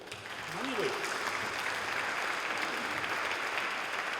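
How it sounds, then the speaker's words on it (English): An audience at a Money Week debate event applauds its panel, with steady, dense clapping that swells in after a brief voice and holds evenly to the end. "Ladies and gentlemen, a round of applause for our panel here."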